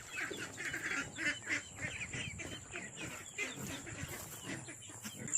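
Ducks in a farm pen, a flock of about forty, give faint, repeated honking quacks in an irregular run, distant and soft against low background noise.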